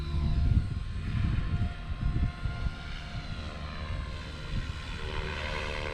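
An RC model A1 Skyraider warbird plane flying at full throttle over a small field, its engine droning steadily with a rising and falling whine as it passes, fairly loud and continuous.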